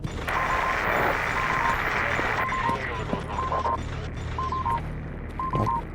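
An anomaly detector in the video game Stalker Anomaly gives short, bright triple beeps that repeat at steady intervals over a continuous rumbling game background.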